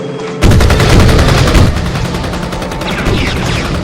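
Rifle gunfire in a video game bursts in suddenly as a loud, rapid automatic volley, the shots blurring into a dense rattling roar that eases slightly while continuing, with no talk.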